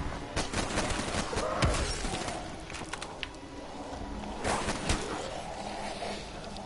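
Pistol shots in Call of Duty zombies on the Kino Der Toten map: rapid, crackling gunfire packed closely over a busy, noisy game din, steady and fairly loud.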